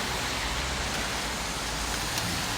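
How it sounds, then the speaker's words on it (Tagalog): Steady rain pours down in the UK in a dense, even hiss with no pauses or voices. "Look, it's raining."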